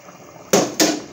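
Oil, yogurt and crushed chili hit a hot karahi in two sharp bursts of sizzling, each a loud hiss that flares up and then settles into a steady crackle, close by and with no talk.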